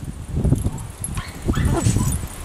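Small dogs bark, yip and whimper in an excited, scattered mix at close range, with people's voices talking in between.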